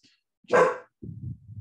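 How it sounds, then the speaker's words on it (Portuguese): A dog gives a single sharp bark up close, followed by a low growl or grumble. "Agora ela late"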